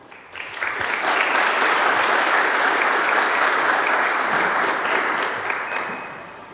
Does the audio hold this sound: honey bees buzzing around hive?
no